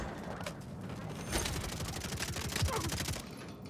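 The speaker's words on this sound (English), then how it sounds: "Who's shooting like that?" Rapid automatic gunfire in the shooter Call of Duty MW3, a steady stream of fast shots with a slightly distant, clattering quality that runs almost continuously before cutting off near the end.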